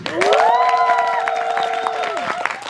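Fans at a fan meeting applaud for a guest singer, a dense, steady clapping that swells and then fades, with a sustained voice-like tone and cheering riding on top.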